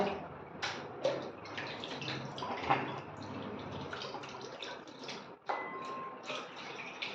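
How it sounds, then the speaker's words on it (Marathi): Mutton pieces are rinsed and squeezed by hand in a vessel of water, soft sloshing, splashes and drips with occasional knocks, fairly quiet and close. "हे शेवटच्या पाण्याने धुवून स्वच्छ करत आहे"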